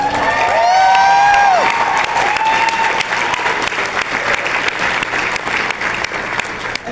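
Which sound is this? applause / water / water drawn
applause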